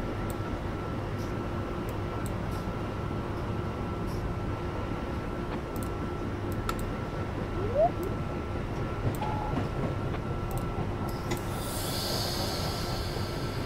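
An Amtrak AEM-7 electric locomotive in Train Simulator 2019 picking up speed, a steady low rumble and hum with faint electric whine and occasional clicks, continuous and even throughout.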